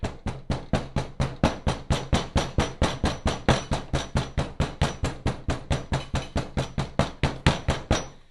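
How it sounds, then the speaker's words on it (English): A tool pounding clay-bonded sand firm for sand casting, producing a fast, steady series of about thirty sharp, evenly spaced thuds, close and loud. "you take a tool and you pound it"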